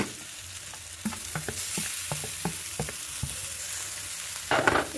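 Fish and potato fried and stirred together in a pan for fish fry, a soft steady sizzle broken by a series of clacking spatula scrapes against the pan, with a brief louder burst of spattering at the end.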